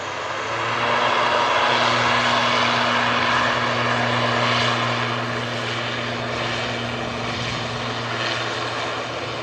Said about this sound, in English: Oh, another prop.